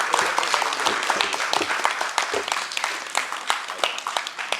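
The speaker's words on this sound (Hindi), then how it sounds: "बहुत जोरदार तालियों से अभिनंदन है कि भोपाल की इस बेटी को मंच पे आमंत्रित करें आप अपनी तालियों से" A theatre audience in Bhopal claps steadily and enthusiastically to welcome a performer to the stage. The dense, continuous applause carries sharp individual claps throughout, with no voices heard.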